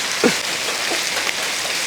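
Steady rain falls on a surface in a dense, even patter that fills the whole stretch, with no voices over it.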